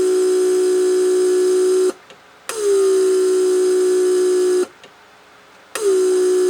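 A steady mechanical hum from a Mercedes S350 door lock vacuum pump runs for a few seconds, cuts out briefly, then restarts, cycling on and off twice.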